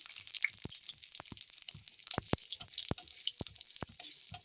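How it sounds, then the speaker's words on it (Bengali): Bay leaves, cardamom and cumin seeds sizzle in hot oil in a pan, a faint, close crackle with sharp pops scattered irregularly throughout. "তেলে আমি দুটো তেজপাতা একটা এলাচ আর জিরে ফোড়ন দিয়ে দিলাম"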